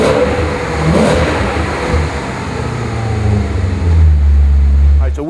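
A 2005 Maserati GranSport Coupe with its Italian engine starting and revving, a loud close rumble that swells and climbs toward the end, with brief talk over it.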